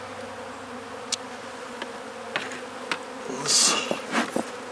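Honey bees buzz faintly around an open beehive during an inspection of a failing hive, with a few sharp knocks and clatters of equipment and a brief louder hiss-like burst partway through.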